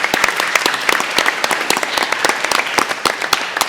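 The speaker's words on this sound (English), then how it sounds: "maybe a warm round of applause for our panelists" An audience at a financial conference on water gives the panelists a steady round of applause, dense and close, with no talk over it.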